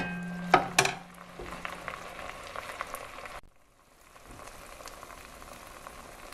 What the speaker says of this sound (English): we're going to stir it until this liquid is absorbed